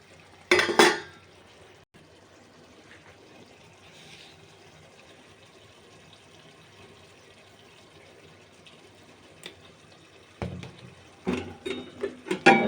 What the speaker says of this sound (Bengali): এবার আর একবার ঢাকনা দিয়ে দেবো